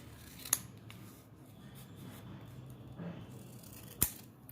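Scissors cutting folded paper circles for a Diwali hanging, with two sharp snips well apart over a quiet, faint background.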